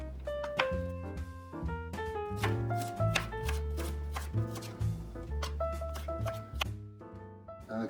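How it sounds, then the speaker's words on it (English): A knife chops onion on a cutting board, rapid uneven thuds and clicks in quick bursts, close and distinct, with no talk. "You cut up the onion."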